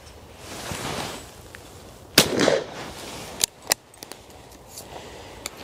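A John Rigby .410 shotgun fires outdoors: one sharp, loud report, followed by a few shorter cracks and clicks from the action or ejector, over faint background noise.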